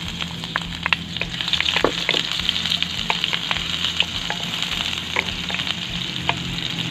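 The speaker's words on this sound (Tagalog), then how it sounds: "Manggigisa muna tayong sibuyas at bawang" Onion and garlic sautéing in a pan, a steady close sizzle with frequent sharp crackles and light stirring scrapes.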